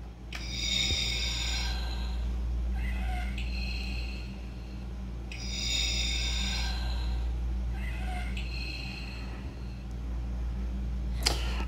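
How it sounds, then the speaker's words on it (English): Labored Darth Vader breathing from a repainted Hasbro Black Series Darth Vader helmet, as in Return of the Jedi, comes as slow alternating hissy inhale and exhale cycles over a steady electronic hum, faint and close. "you hear the labored sound of Vader breathing as it was from Return of the Jedi"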